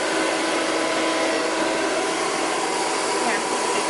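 A hair dryer blowing hair out for a blowout: a loud, steady airy roar that holds without a break for the whole span, close by and with no pauses.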